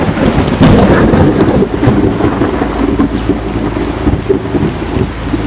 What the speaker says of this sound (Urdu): باہر بہت تیز بارش ہو رہی تھی، بار بار بجلی چمک رہی تھی اور بادل گرج رہے تھے۔